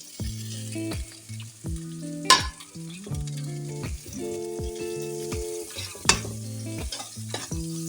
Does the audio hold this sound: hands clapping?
no